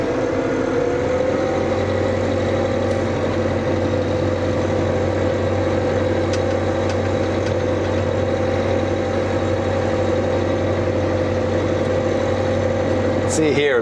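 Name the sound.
tractor engine running while driving through a field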